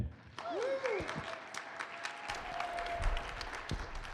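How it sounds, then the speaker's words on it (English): A small meeting audience gives a modest round of applause for a presenter, fairly quiet scattered clapping with sharp individual claps, a brief electronic tone near the start, and low room noise beneath. "Give a round of applause for Dave with Berkley"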